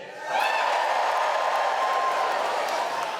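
At a comedy show, audience members over 40 give a sustained cheer that swells quickly and holds, with whoops and shouts mixed into the crowd noise.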